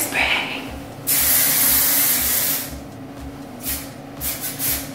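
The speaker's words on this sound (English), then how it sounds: "Hairspray." A hairspray can sprays onto hair during a 1980s-style styling session, one long loud close hiss lasting about a second and a half, followed by a few shorter, fainter bursts.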